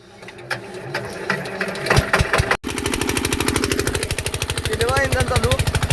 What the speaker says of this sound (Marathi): खालचं इंजिन चालू करायला चाललोय खाली.